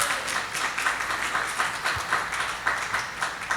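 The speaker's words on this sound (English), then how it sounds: "can we give him a round of applause?" An audience applauds Tony with steady, dense clapping that runs unbroken from start to finish at moderate volume, a broad wash of many hands with no voices rising above it.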